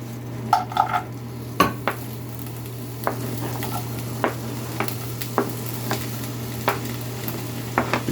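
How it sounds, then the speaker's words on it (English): Onions and mushrooms sautéing in butter in a pan, a steady close sizzle broken by about a dozen sharp clinks and scrapes of a utensil stirring, with a low steady hum underneath and no talk. "we'll get the onions and mushrooms in. I put a little butter in there too"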